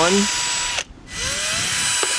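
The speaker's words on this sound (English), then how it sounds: "center the light to drill the bolt holes" A power drill boring bolt holes to mount a police light on a car, heard as a loud steady whine that spins down, pauses briefly, then runs again close to the mic.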